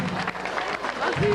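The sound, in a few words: audience applause for Antoine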